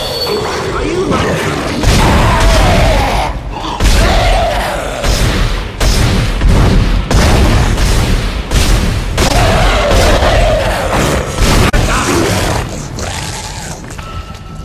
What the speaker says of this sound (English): Damn, I shot his head off.